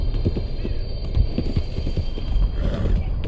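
Rapid clip-clop of horse hooves at a steady trot in the video game Red Dead Redemption 2, close and fairly loud over a low background hum.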